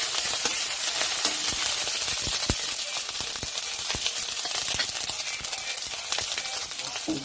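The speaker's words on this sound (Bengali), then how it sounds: "ভেজে নিচ্ছি।" Whole chillies and ginger paste fry in a pan with a steady, close sizzle and scattered small crackles and pops throughout.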